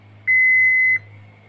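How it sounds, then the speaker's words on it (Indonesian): A multimeter set to buzzer continuity mode, testing terminals on a Honda Vario 125, gives a single steady beep of just under a second, clear and close, with no talk. "Untuk ini kita menggunakan mode buzzer"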